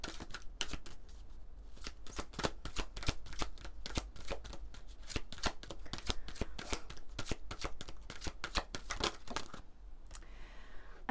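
A deck of oracle cards being shuffled close up, a rapid run of crisp papery riffles and snaps in a quick irregular rhythm, fairly quiet with no talking.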